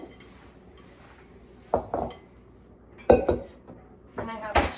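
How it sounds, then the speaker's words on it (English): Sourdough dough is placed into a glass bowl in a home kitchen, bringing a few distinct clinks and knocks of glass and utensils spaced apart over a quiet background, fairly close. "I'm gonna put this in a glass bowl"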